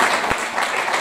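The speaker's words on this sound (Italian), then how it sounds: "Fategli un bel applauso" Audience applause inside the Teatro Sant'Anna theatre in Turin during a stage comedy, a brief burst of steady, dense clapping with one sharp thump partway through.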